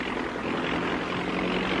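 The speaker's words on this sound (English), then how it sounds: "The airboat barely skims the shallow water." An airboat driven by an airplane-style propeller skims shallow grassy water, its engine and propeller making a steady, broad roar at moderate level for a brief moment, with no voices.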